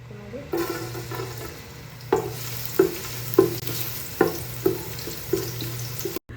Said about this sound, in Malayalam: നമുക്കിതിലേക്ക് ചെറുതായി അരിഞ്ഞെടുത്തിട്ടുള്ള വെളുത്തുള്ളി ചേർത്ത് കൊടുക്കാം കേട്ടോ